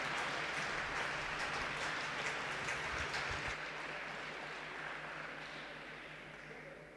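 A British crowd at a W100 women's tennis tournament in Shrewsbury, 2022, applauds a departing player with steady, dense clapping that slowly fades, heard from a distance.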